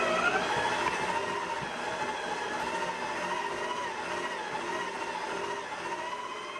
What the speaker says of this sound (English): this little mixer was able to handle a small dough of this size